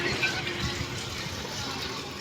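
Water pours from a revived borewell on a farm in a steady, loud gushing flow that fills the whole moment, with no pauses.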